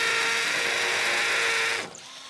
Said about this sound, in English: So now that we've covered all that, we can get our holes drilled.